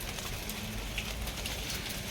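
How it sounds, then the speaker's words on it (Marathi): Light rain falls steadily over a vegetable patch, a soft continuous hiss and patter close by with no other sounds standing out. "आता पण थोडा पाऊस चालूच आहे थोडा थोडा पाऊस पडते"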